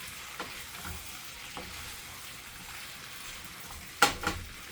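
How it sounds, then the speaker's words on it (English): Potatoes with water sizzle gently in a pan while a utensil stirs, with a few light scrapes and a sharper clatter near the end. "right now, I'm just going to stir that into the potatoes really nicely."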